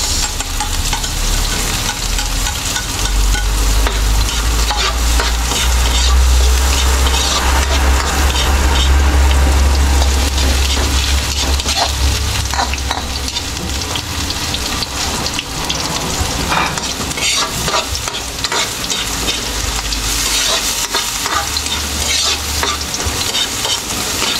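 Onions frying in a pan, a loud, dense, continuous sizzle with a steady low rumble beneath it, close up and uninterrupted.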